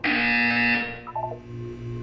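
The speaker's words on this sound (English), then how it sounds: "When you hear the buzzer, look up at the ceiling." A loud, steady electronic buzzer from the Portal 2 video game drones for under a second, then gives way to a few quieter, wavering synthetic tones over a low hum.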